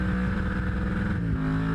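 An LS-swapped burnout car at a burnout competition held on the rev limiter, a loud, dense, continuous engine roar with a slight pitch shift near the end.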